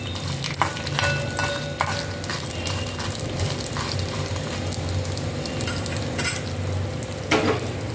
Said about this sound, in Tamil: இந்த எண்ணெய் கொஞ்சோண்டு ஊற்றினேன், இதில் உளுத்தம்பருப்பு போட்டிருக்கேன்.